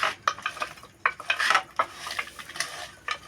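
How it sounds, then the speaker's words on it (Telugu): Mutton trotter pieces are mixed by hand-held spoon with ginger garlic paste in a vessel, producing a brisk run of wet scraping and metallic clinks in an uneven rhythm, close and clear with no talking. "రెండు స్పూన్లు అల్లం వెల్లుల్లి పేస్ట్ వేసుకొని బాగా కలుపుకోవాలండి"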